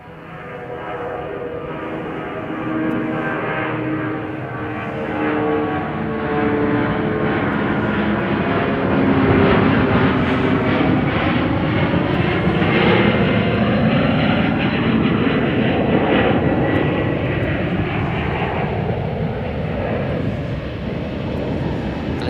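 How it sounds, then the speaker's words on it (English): A Delta Airlines Boeing 757, an old 1997-built airframe, takes off from runway 28 right at Chicago O'Hare, its jet engines building into a loud, sustained roar that swells and holds for over twenty seconds. "Going to be taking off here off of 28 right"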